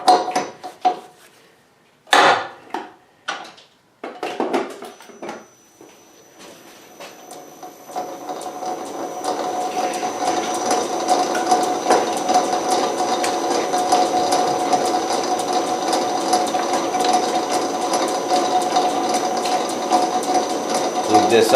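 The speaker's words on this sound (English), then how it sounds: "so now we're going to ream that. I want to slow my machine down." A South Bend 13-inch lathe in back gear reams a bushing, turning with a steady, dense mechanical whir that follows a few sharp knocks and clanks, with speech at times.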